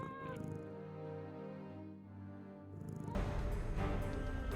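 A cat meows in the mystery adventure game Nancy Drew: Mystery of the Seven Keys, with a drawn-out tonal mew over background music, then a louder burst of noisy game sound.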